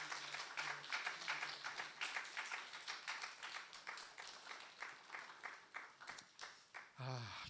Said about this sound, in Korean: 다시 한번 박수해 주시기 바랍니다.